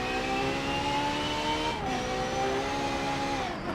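A Ferrari FXX K in Forza Motorsport 7 accelerates hard uphill at the Nürburgring. Its engine holds a loud, steady high-pitched howl, dips briefly on a gear change, then climbs again, close and continuous.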